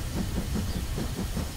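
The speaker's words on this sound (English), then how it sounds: "Mr. Train is going right." A cartoon toy train rolls along with a steady rumble, soft hiss and faint clickety-clack rhythm, continuous and moderately quiet with no voices.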